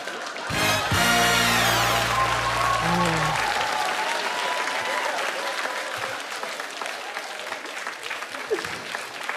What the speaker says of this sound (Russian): Эти аплодисменты в твой адрес.